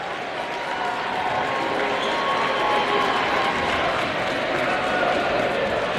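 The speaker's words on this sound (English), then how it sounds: "A much deserved applause by the Central fan base here for the Central York team" Central York fans applaud their boys basketball team near the close of a county championship game against York High, a steady, dense clapping from the crowd with some cheering mixed in that holds at full strength for the whole six seconds.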